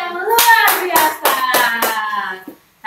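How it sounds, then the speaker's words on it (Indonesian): Several rhythmic hand claps ring out close by, mixed with bright sung or shouted voices, during an online children's church service where everyone applauds God. "Sekali lagi tepuk tangan buat Tuhan kita yang luar biasa"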